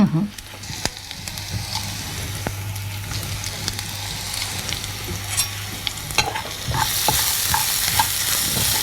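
Dried red chillies fry in hot oil for a Chettinad chicken gravy, a steady crackling sizzle broken by sharp stirring scrapes and clinks, louder and hissier near the end, with a faint low hum beneath.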